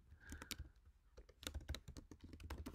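Fast typing on a computer keyboard while coding in Xcode, a dense run of close, crisp key clicks with a short pause near the middle, no talking.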